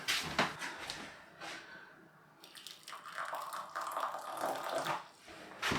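Hot water pours steadily into a container to dissolve 6 grams of gelatin for small cocktail pork pies, with a brief splash at first, a short pause, then a longer sustained trickling stream up close.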